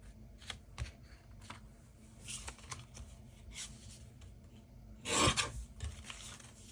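Scissors trimming paper for a haunted interactive journal: soft scraping snips and rustling handling, with one louder, fuller cut-and-rasp burst near the end, all close and quiet.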